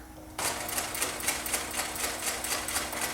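A sewing machine stitches a quilted mug rug, starting abruptly and running in a fast, even rhythmic clatter close by, with no talking.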